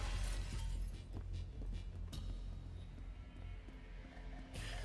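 A glass display case shatters in the Crime Boss Rockay City video game, a loud crash with sharp breaking bursts and scattered tinkling shards over a low rumble, ending in a final burst.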